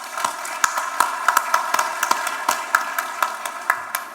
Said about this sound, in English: they all deserve a very big round of applause